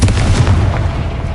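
A Confringo fire spell bursts in the Hogwarts Legacy video game, a loud, booming blast with a low rumbling tail that fades over about a second.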